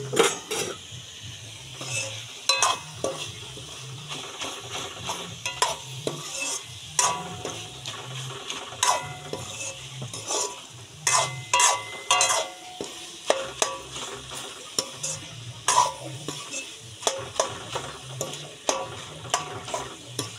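Flat beans are stirred and broken up in a frying pan over low heat, a spatula scraping and clinking in irregular strokes over a soft steady sizzle, close and without talk.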